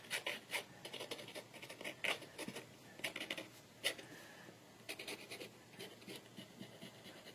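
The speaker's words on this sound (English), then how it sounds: "I'm scratching into it with the nib." A metal pen nib scratching into drying watercolour paint on paper, a quiet, close series of rapid, irregular scratchy strokes in short bursts.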